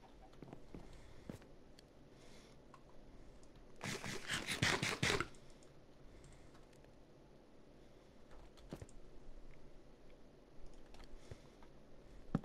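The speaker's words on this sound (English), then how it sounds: "I hope my clicking sounds aren't too" Computer mouse and keyboard clicks while playing a cave-exploring game: soft scattered taps throughout, with a dense burst of rapid clicking in the middle, quiet and close.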